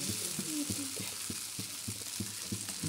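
Wheat flour dhirde frying in oil on a pan, giving a steady, low crackling sizzle broken by soft regular ticks and taps, heard close with no talking.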